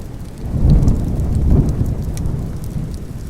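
Steady rain pours down with a low, rumbling wash, swelling slightly then settling into a constant patter.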